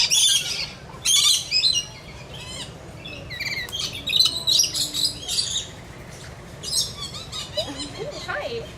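Close, bright chirps and harsh squawks from a bird perched on a visitor at a wild animal park, coming in bursts over the span, with people talking nearby.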